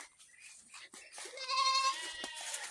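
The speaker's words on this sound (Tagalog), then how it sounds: "So itong kambing natin, yan makulit." A goat bleating on a farm, one close, clear wavering bleat rising after a few softer rustles and vocal noises.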